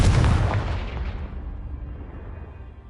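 A magical Confringo blast in a video game strikes a pile of debris, giving a loud booming explosion at once that rumbles and slowly fades away over a few seconds.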